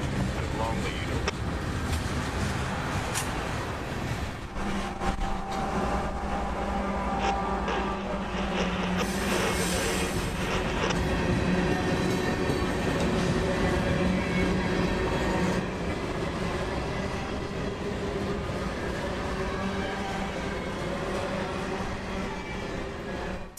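A freight train moves slowly through a rail junction and over a switch, giving a continuous loud rumble and squeal of wheels and cars with occasional clanks.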